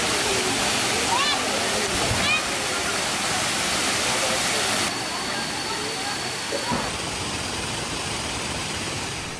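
The main Kuang Si waterfall in Laos cascading over limestone tiers, a dense, continuous broadband rush of water heard close and steady, with a brief knock or two and a faint tonal hum in the background.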